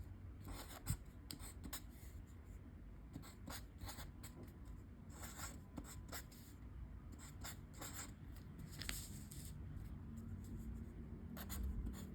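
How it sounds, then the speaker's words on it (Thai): Pen writing on paper while math digits are worked out, a steady scratchy rasp of short strokes and pauses running throughout, close and fairly quiet with no talking. "นี้ก็จะ เขียนให้ดู"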